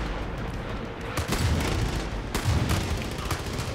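Incendiary rounds fired in the video game Far Cry 5, with bursts of gunfire around the one-second mark and again near two and a half seconds, loud and close over a steady rumbling game background.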